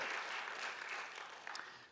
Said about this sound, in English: let's give them a round of applause and thank them for their work